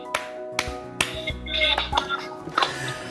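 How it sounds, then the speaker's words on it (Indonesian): An audience at an English skills session for PKBM Al-Zaytun C3 gives a patterned clap in three rounds. The sharp, spaced claps ring out over a faint tonal background. "3 kali tepuk tangan dulu dong."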